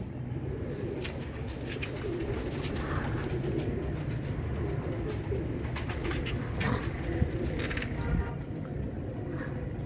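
Pigeons coo continuously close by, a dense low burbling chorus with flutters and faint background noise.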